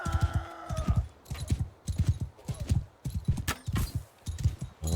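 A horse gallops in the video game Mount & Blade II: Bannerlord. Its hooves pound in a steady, quick rhythmic clatter at close range, alone and without speech.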